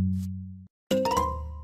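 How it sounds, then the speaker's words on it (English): A doorbell in the Minecraft video game rings with a bright chiming ding-dong, its tones ringing out clearly after a sustained tone and a short gap. "It realized the doorbell is trapped."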